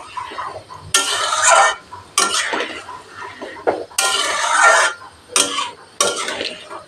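Pumpkin greens curry stirred in a pan with a metal spoon, repeated loud scraping and clattering strokes in bursts separated by brief pauses, close by.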